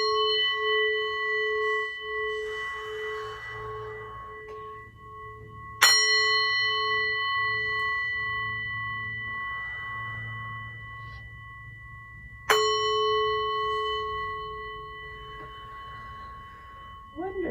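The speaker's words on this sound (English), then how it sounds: "Amelia's going to ring our bell, so you can ring your bell 3 times" A meditation bell at a Sunday School gathering is struck three times, each ring starting with a bright metallic strike and fading into a long sustained hum. The strikes are spread evenly apart, with soft voices murmuring faintly underneath.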